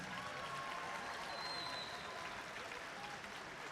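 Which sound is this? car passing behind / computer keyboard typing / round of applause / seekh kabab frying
round of applause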